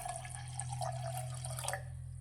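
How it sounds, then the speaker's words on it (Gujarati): Water is poured over chickpeas in a pressure cooker, a faint, close trickling and splashing that lasts about two seconds against a low background hum. "હવે તેની અંદર આપણે પાણી લઈશું।"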